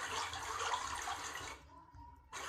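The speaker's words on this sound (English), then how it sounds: "the sound of a quiet river" Water rushes and gurgles steadily, then briefly drops to near quiet before the flowing sound returns.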